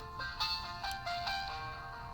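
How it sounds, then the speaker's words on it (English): An incoming phone call's ringtone goes off indoors while felting a hat, repeating electronic tones in short bursts at moderate volume with no talking over it. "I hate it when I get phone calls in the middle of something."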